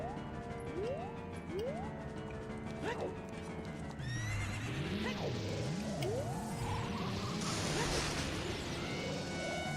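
A horse in Zelda: Ocarina of Time on GameCube gallops with rhythmic clip-clop hoofbeats and lets out repeated neighs, amid swooshing and crashing game effects and music.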